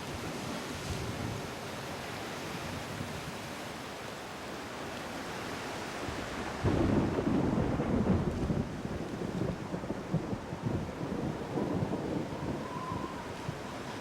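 Thunderstorm by the sea, with a steady broadband wash of rain, wind and surf throughout and a louder rumbling swell of thunder about halfway through.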